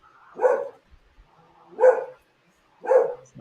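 A dog barks three times at even intervals, each bark a single loud, fairly close woof with quiet gaps between, heard alone without talk.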